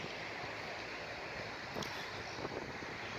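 Wind blowing outdoors on an open hillside in Tangier, Morocco, a steady broadband rush with microphone buffeting and no talking.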